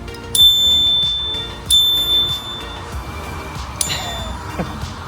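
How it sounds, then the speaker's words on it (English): A small bicycle-style bell mounted on a Honda Navi handlebar rings three times, each bright metallic ding sharp and close with a shimmering decay, spaced over a few seconds against quiet room background. "This is a little bell."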